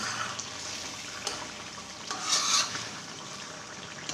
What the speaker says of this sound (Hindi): मैं चमचे की मदद से टमाटर को अच्छी तरह मैश करती हूँ।